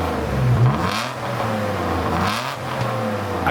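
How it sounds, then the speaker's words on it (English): A car with an RB engine revs through a stock OEM exhaust, giving a muffled, choked drone that rises and falls in a few throttle blips over about three seconds with no talking. "this absolute disaster of an exhaust. Not only does it look horrendous, but it literally spits water and sounds like the beautiful RB power is being choked out."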